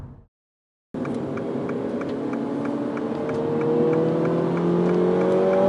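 A Mini John Cooper Works GP3 hatchback engine running after a brief silence, a steady close drone that rises in pitch as the revs climb, with a faint rhythmic ticking over it.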